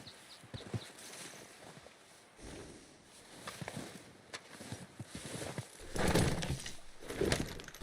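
A horse's hooves clip-clop in Red Dead Redemption 2, soft irregular steps that are faint at first and grow louder and closer toward the end, with little talk.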